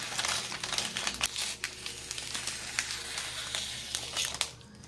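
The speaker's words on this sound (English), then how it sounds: "I'm just gonna cut this little bag open." A small plastic packaging bag being cut open, faint crinkling and clicking snips in an irregular series, close and quiet with no speech.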